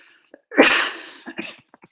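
A single loud sneeze bursts out during a lecture, a sharp explosive rush followed by a few faint breaths and small sounds in an otherwise quiet room.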